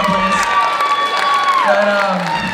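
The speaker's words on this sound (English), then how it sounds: "Round of applause for her, please." A crowd at a high-school Mr. NHS pageant claps and cheers with high whoops and shouts layered over the steady applause.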